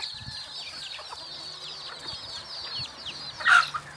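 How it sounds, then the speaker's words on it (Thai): Laying bantam hens in a raised coop give soft, intermittent clucks over a low ambient hum, with a louder squawk near the end. "ไก่ไข่ในเล้านะครับ"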